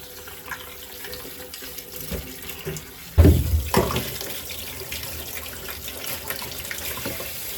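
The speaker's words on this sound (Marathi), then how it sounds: "सगळ्यात पहिला मी बटाटे स्वच्छ धुवून घेणार आहे" Potatoes are washed under a running kitchen tap, a steady stream of water splashing in the sink that swells into a louder gush midway and keeps flowing to the end, close by with no speech.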